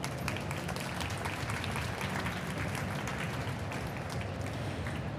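An audience applauds at a marketing masterclass, a dense, even patter of many hands clapping that holds steady at moderate level throughout.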